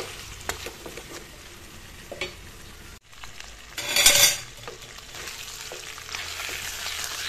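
Fish pieces frying in a pan over a low flame give a faint, steady sizzle, interrupted by stirring and a brief scraping clatter of a utensil against the pan.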